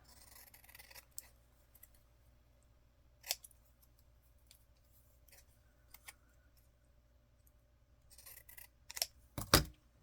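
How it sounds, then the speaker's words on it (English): Scissors snip through paper craft project trimming white edges, a few sharp isolated cuts scattered across a quiet room, with a quick cluster of louder snips near the end. "I'm going to trim some of the white off."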